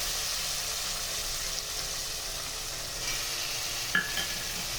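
Chopped tomato with ground spice paste, cumin, ginger, dried red chilli and cashews frying and being stirred in a pan for chal potol, a steady close sizzle with occasional scrapes and a sharp clatter near the end.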